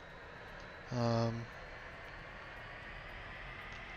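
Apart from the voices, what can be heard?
L-39 Albatros jet taxiing in DCS flight simulator video game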